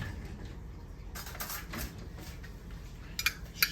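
A jar of marinara and a metal spoon handled on a kitchen counter, soft clinks and clatters in short bursts near the end over quiet background.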